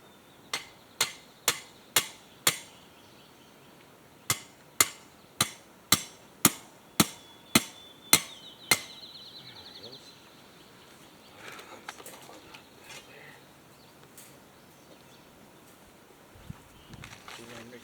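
A sledgehammer pounds outdoors on a homestead during fruit-tree planting: about a dozen loud, sharp, evenly spaced blows in two bursts, then quiet with faint birdsong.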